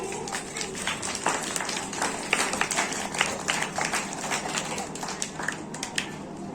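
An audience of children at a Jain religious class led by an acharya breaks into applause, a dense crackle of many hands clapping at moderate distance that holds steady throughout.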